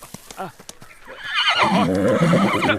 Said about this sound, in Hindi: ये घोड़ा काफी अड़ियल है भगत, किसी के काबू में नहीं आएगा